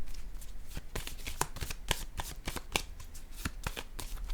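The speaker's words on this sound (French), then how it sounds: "Je vais déposer une autre carte ici." Tarot cards are handled and laid down on a table in a run of soft, rapid papery clicks and taps. The sound is close and fairly quiet, with no one speaking.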